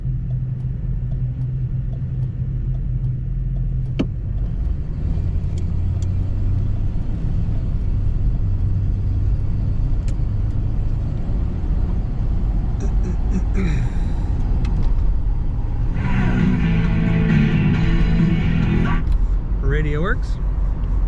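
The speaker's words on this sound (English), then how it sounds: "Here we have a 1977 Ford Thunderbird. I'm gonna take it for a drive for you." A 1977 Ford Thunderbird in good condition is being driven, its engine giving a continuous low rumble that stays loud and steady throughout, with the tone shifting slightly toward the end as the engine works harder.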